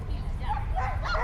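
Dogs bark, yip and whimper at an outdoor agility course in a dog park. The barks come in short bursts over a steady background, with people talking nearby at the same time.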